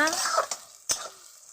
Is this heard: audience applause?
no